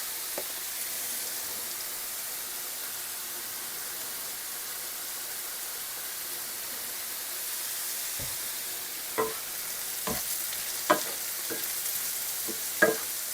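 Carrots frying in a pan with garlic and seasoning, a steady soft sizzle with occasional clicks and scrapes of stirring toward the end.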